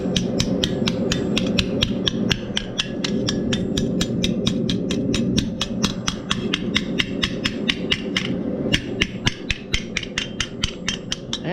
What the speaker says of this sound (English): if you don't have a porch on your anvil, and I'm just using my cross peen